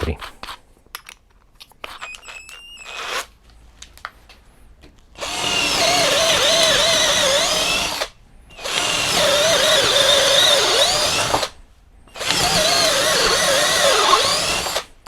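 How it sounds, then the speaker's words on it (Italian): Topshak TS-ED1 hammer drill boring into wood with an 8 mm wood bit. It gives three loud, sustained whining bursts of several seconds each with short gaps, after a quieter stretch of handling noise. "Passiamo a questa punta da legno da 8 mm."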